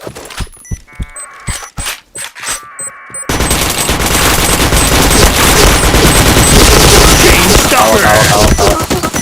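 Gunfire in the PointBlank video game: a few separate sharp shots, then a long, dense, loud stretch of continuous automatic fire with game effects layered in.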